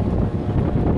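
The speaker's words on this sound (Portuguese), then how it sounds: "Continua ventando muito," Strong gusty wind buffeting the microphone outdoors at Sorocaba airport, a loud, continuous low rumble filling the whole moment with no voice heard.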